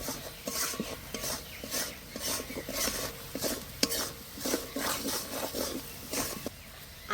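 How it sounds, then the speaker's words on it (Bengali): Spice paste with coriander and chilli powder is stirred and sautéed in a pan for rohu fish curry, with repeated rhythmic scraping strokes over a soft sizzle, close and fairly loud. "এবার ভালো করে কষে নেব।"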